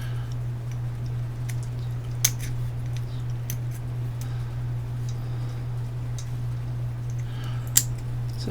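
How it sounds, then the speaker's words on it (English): Metal snips cut the corners of a part on an electronics workbench: a handful of sharp, isolated clicks and snaps spread across the stretch, over a steady low electrical hum, with no talking. "Just clip the corners with a pair of snips."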